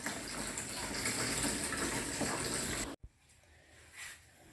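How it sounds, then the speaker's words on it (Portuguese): Water from an artesian well pump fills a drinking-water drum with a steady rushing gush for about three seconds, then cuts off abruptly, leaving a quiet trickle. "Vou estar enchendo esse tambor aqui, pessoal, que é tambor para beber água"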